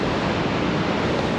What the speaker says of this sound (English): all the beaches here on the Great Ocean Road has got some pretty wicked waves